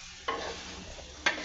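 A spiced sandwich filling is mixed with ghee in a pan, a low sizzle broken by two sharp spoon scrapes against the metal, one early and one near the end.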